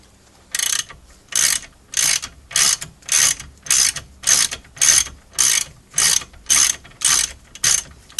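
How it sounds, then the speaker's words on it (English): Flexible head ratchet spanner turning a bolt during a Renault Clio lower control arm replacement, about a dozen evenly spaced, close, loud ratcheting bursts in steady rhythm. "flexible head ratchet spanners, excellent invention"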